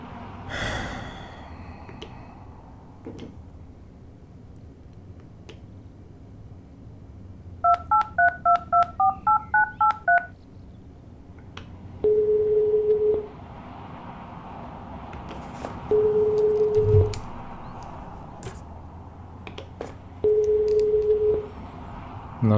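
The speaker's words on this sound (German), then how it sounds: "Ich werde erstmal Sven anrufen und dann den Marian." A phone in Euro Truck Simulator 2 dials a quick run of about ten beeping tones, followed by three separate steady ringback tones spaced several seconds apart, set against a quiet background with occasional faint breaths.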